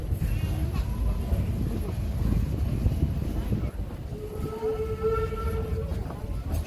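A Disneyland railroad train rolls along its track in a steady loud rumble of wheels and cars, with a brief tonal whistle-like squeal near the end.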